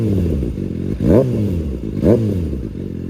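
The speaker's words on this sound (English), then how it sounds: "A little rev." A 2022 Kawasaki Ninja ZX-6R engine idles with a steady low rumble, then revs up sharply twice, each short throttle blip rising and falling back to idle.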